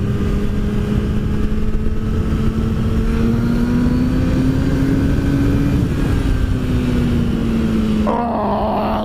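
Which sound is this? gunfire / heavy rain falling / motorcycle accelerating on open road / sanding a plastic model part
motorcycle accelerating on open road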